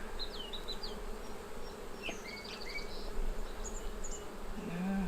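Honey bees buzz steadily around brood frames lifted from an open hive, a dense continuous hum with a few bird chirps faintly in the background.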